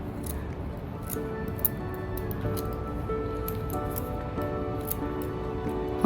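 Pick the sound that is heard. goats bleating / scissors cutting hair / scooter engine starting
scissors cutting hair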